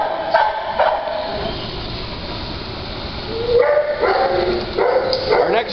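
A shelter dog barks in short bursts, several sharp yips and woofs near the start and a cluster of louder barks toward the end, with steady background noise and a faint voice under it.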